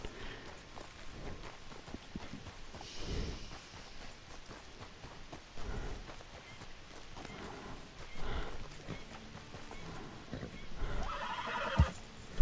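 A horse in Red Dead Redemption 2 whinnies amid steady hoofbeats and clip-clop over a busy game soundscape with rumbling effects, continuing for several seconds with periodic louder bursts.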